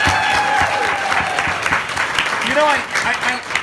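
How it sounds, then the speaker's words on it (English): Audience applause at a seminar, loud continuous clapping from a crowd, with voices and whoops breaking through the steady patter. "So how many of you enjoyed today by a round of applause?"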